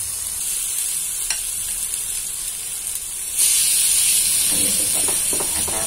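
Green tomato chutney roasting in a pan, a steady close sizzle and hiss that grows louder partway through, with faint stirring scrapes near the end.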